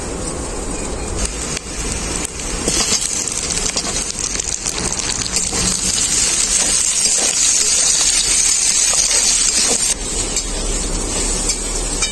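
Chopped tomatoes hit a pan of frying onion, ginger and garlic, setting off a loud, steady crackling sizzle with scattered sharper pops throughout.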